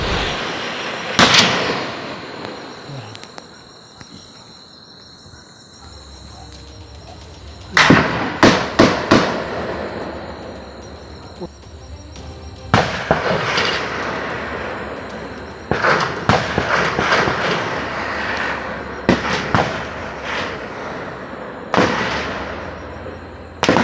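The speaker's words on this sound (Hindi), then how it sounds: "गोलियों की, धमाकों की आवाज आपने सुनी" Sharp bursts of gunfire and blasts from an encounter with militants, sporadic volleys of loud, close cracks and booms separated by quieter stretches, with no talking.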